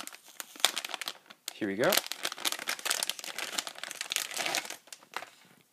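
Tape ripping and packaging crinkling while a Pine64 single-board computer is unboxed, with a sharp tape pull near the start and continuous crackling plastic close by, under a man's speech.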